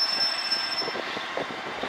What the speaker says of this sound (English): the 1502 Eastman's train service from Grimsby down to Newark is now leaving